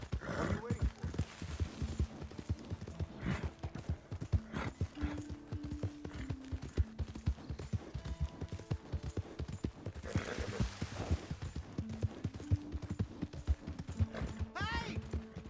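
Horse hooves clip-clop in a Red Dead Redemption game scene, a continuous rhythmic trot of sharp close hoofbeats throughout, with game voices and other sounds mixed in behind.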